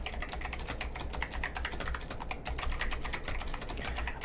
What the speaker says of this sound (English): is the Razer Huntsman V2 with purple clicky switches